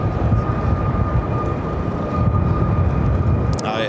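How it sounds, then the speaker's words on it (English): A steady roar of an Airbus A380 aircraft at LAX during extreme winds rumbles continuously at a moderate distance, broad and even throughout with a faint tonal whine, ending in a brief shift. "as we wait for the A380s to cross over here"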